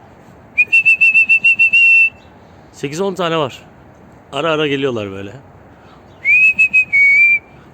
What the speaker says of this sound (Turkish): Burada doğada yaşayan papağanlar var